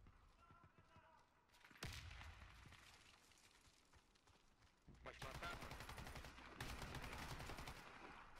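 Gunfire in the shooter game Warface, bursts of rapid automatic shots with sharp loud cracks and pauses between volleys, game sounds mixed with a player's voice at times.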